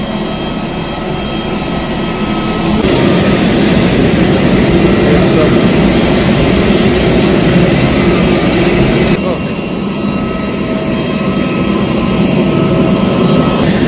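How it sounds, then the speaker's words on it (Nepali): Close and loud, a large passenger jet's engines roar as people board at the airport. The whine holds steady and loud throughout, and voices can be heard beneath it. "ठुलो बस पछाडि अब यो ठुलो प्लेन चढ्दैछौँ है हामी।"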